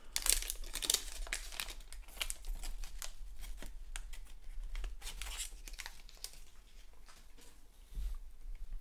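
A pack of Upper Deck Trilogy hockey cards being torn open by hand, with close, quiet crinkling and ripping of the foil wrapper in quick irregular bursts.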